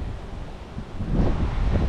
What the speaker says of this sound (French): toujours du vent d'automne